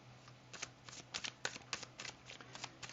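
Tarot cards are shuffled by hand, close and quiet, with a quick series of crisp riffling flicks and snaps over a faint low hum.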